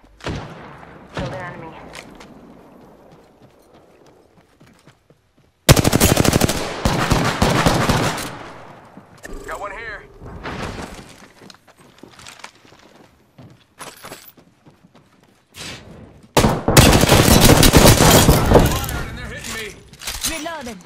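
Gunfire in the game Apex Legends: loud bursts of rapid automatic fire break out in heavy clusters, separated by quieter stretches of scattered shots and clatter.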